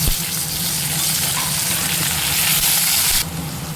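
Tomatoes and onions frying in a pan make a loud, continuous close sizzle with a low bubbling rumble beneath, easing slightly near the end.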